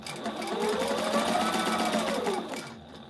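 A sewing machine runs steadily for about three seconds while stitching fanny pack material, a continuous mid-loud mechanical whir with a rising and falling motor tone that eases off at the end.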